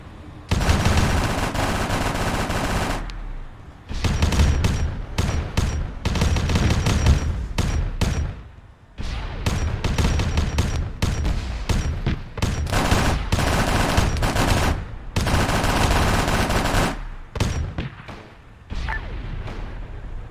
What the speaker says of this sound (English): Plasma fire also coming in.